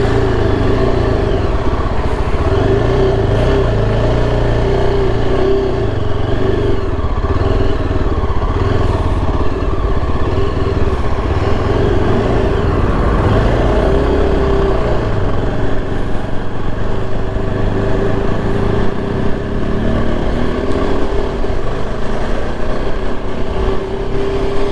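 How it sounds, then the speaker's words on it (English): Motorcycle on a highway ride through a ghat section in Maharashtra, with loud continuous wind rush blended with steady engine drone throughout, close and unbroken, no talk. "There's a lot of wind."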